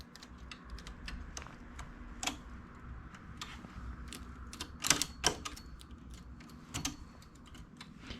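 A knitting machine carriage is pushed across the needle bed to knit two rows, giving a quiet run of rapid mechanical clicks and clacks with a few sharper knocks, close and without talk.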